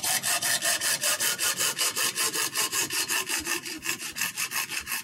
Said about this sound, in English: So you can take your hacksaw, makes quick work of this